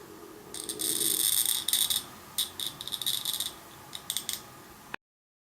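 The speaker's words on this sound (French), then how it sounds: "Donc là avec le cutter, je viens gratter le joint." Cutter knife scraping the mould seam on a plastic part for a Tamiya Ducati Panigale 1199 S model kit: short, dry, raspy scratches in quick irregular bursts, close and fairly quiet, with no talk.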